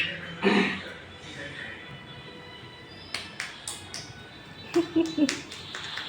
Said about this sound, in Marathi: आमचा नातू कसा टाळ्या वाजवायला लागलाय बघा